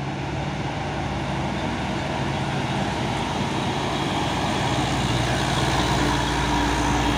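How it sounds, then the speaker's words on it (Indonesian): A Hino dump truck pushes another heavy truck, its diesel engine straining in a loud, steady rumbling drone that builds slightly toward the end, with no talk. "Disorong terus sama truk Hino ini ha,"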